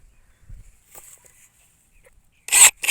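Pruning shears snip through rose branches during spring pruning of tea, spray and groundcover roses, giving a couple of faint clicks and then two sharp, close cuts near the end, with soft rustling between.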